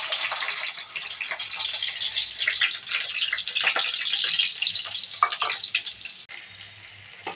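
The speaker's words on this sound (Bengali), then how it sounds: "পেঁয়াজটা লাল লাল মতন ভেজে নেব" Onions frying in a pan with green chili, ginger and garlic paste, cumin, Kashmiri chili and coriander powder, giving a steady close hiss and crackle with occasional clicks of the spoon, no voices.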